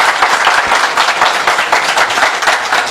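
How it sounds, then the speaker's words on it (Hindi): Loud, enthusiastic audience applause for Sagar sir after his detailed product talk at a morning seminar, with many hands clapping in a dense, rapid patter that holds steady for the whole stretch. "एक बार सागर सर के लिए एकदम जोरदार तालियां।"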